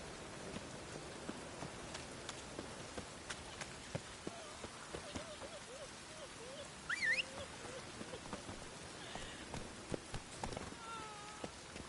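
Steady rain falls in The Witcher 3, a soft continuous patter on surfaces, quiet and diffuse, with horse hoof clops and brief character voices over it.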